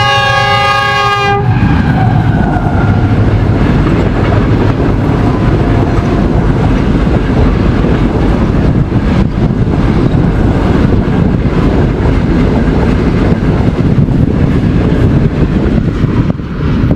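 A Pakistan Railways train engine blasts its horn briefly, then rumbles past loud and close, followed by a long, steady clatter of wheels over the rails.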